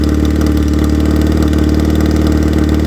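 A motorcycle engine idles close by, a loud, even low throb with a fast steady pulse and no change in speed.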